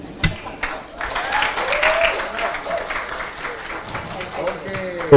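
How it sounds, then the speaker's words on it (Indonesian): Audience applause after a speech at an Indonesian panel discussion event, steady broadband clapping from a crowd lasting several seconds, with a voice briefly heard over it. "terima kasih tepuk tangan sekali lagi Rocky Gerung."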